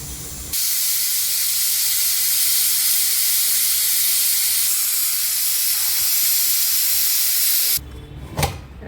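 A pressure cooker of chicken rassa releases a loud, steady steam hiss that runs for about seven seconds before cutting off abruptly, followed by a brief clatter.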